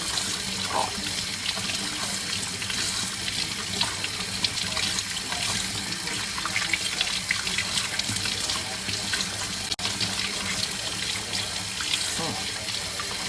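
Squid rinsed under a running kitchen tap for a steamed lime squid dish, a continuous close splash of water into the sink with light handling sounds throughout.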